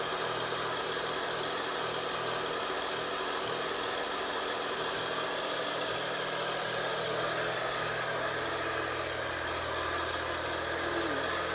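A Triumph Tiger Sport 1050 motorcycle, bought at auction and just brought back to running, idles with a steady, even drone and broad noise. It holds at constant loudness from start to end, with no voices over it.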